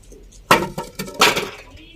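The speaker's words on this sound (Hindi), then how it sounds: "मैंने कहा इसको तोड़ने की कोशिश करती हूँ, अगर टूट गया तो" An old termite-eaten wooden beam is broken for firewood by hand, giving two loud, sharp cracking snaps with a few smaller creaks and knocks between them, close by.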